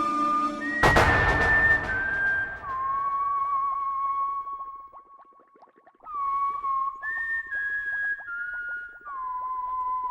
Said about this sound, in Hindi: तुम ये सीटी क्यों बजा रहे हो?